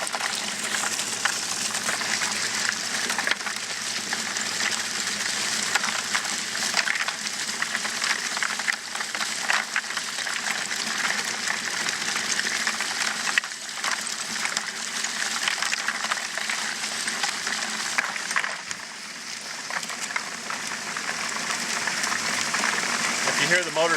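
Ice is poured slowly into a homemade margarita maker built from a garbage disposal, giving a steady, dense grinding and rushing hiss that holds evenly for a long stretch, with a voice speaking over it at times.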